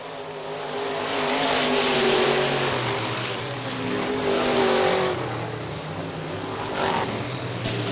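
IMCA modified race cars roar out of turn 4 at Hartford Speedway Park, Michigan, a loud continuous engine drone rising and falling in pitch as the cars pass side by side at a dirt oval.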